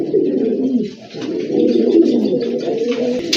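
A pair of white strawberry pigeons coos with steady, low, rolling murmurs, close and continuous with a brief dip, and no voices.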